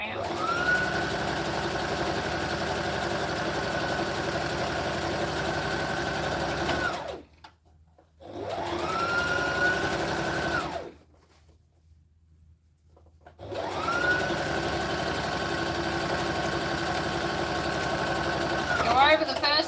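A sewing machine runs in long steady bursts, stopping briefly and dropping to near silence before starting again, as it goes over a line of stitches and backstitches for charity sewing. Close and loud, with no talking heard.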